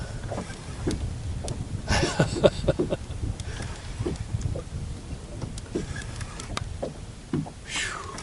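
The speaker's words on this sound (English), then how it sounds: "That wind is cold, y'all. Just cut right through you." Cold wind blows across open water during kayak fishing, buffeting the microphone in uneven gusts with scattered bumps and knocks from the boat, loud and close, with no talk.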